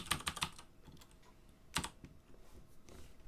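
Fingers tap out a quick burst of clicks on a computer keyboard, pause, then a few more scattered keystrokes follow, close and fairly quiet with no talking.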